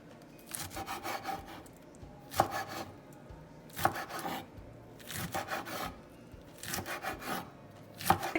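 A knife chops washed, rolled-up lettuce into small pieces on a cutting board, with steady rapid close taps in several bursts and brief pauses between them, no voices.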